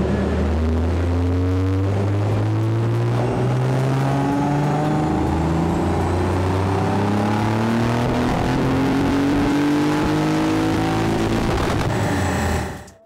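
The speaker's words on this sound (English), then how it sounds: "ZX300's got the VG30 V6 engine. It sounds great on the dyno." A Nissan 300ZX with a VG30 V6 engine revs hard on a dyno, its loud engine note climbing in pitch through several long sweeping pulls before cutting off abruptly at the end.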